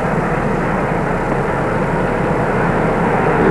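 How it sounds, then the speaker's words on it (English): Air Force One, the jet carrying a newly sworn-in president, arriving at Andrews Air Force Base in Maryland, a steady, loud, broadband engine roar that holds without a break throughout and stays fairly even in level. "He arrived at 5:58 Eastern Standard Time aboard the Air Force jet which also carried the body of John Kennedy."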